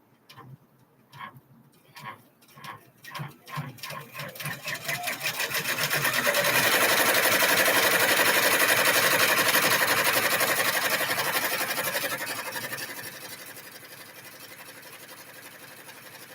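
Sewing machine stitching a bag closed around its edge: slow separate ticks at first that speed up into a loud, continuous whirring run, then ease back to a steadier hum, close by with no talking.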